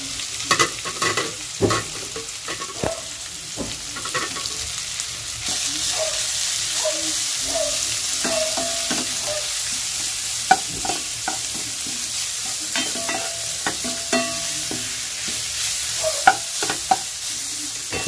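Banana heart fries in a pan with onion and garlic, a steady oil sizzle broken by repeated clacks and scrapes of a spatula as it is stirred, close and fairly loud.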